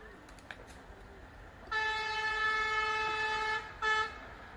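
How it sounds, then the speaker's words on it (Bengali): A vehicle horn blares from the road near a cremation ground at Mansar Battala, two sustained honks, the second short, over faint traffic. "রাস্তা থেকে গাড়ি যেতেছে"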